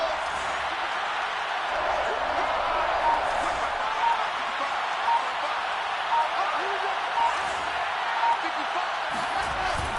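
A football video game crowd cheers ahead of a big third down, a steady roar of stadium noise with rhythmic swells under a commentator's speech.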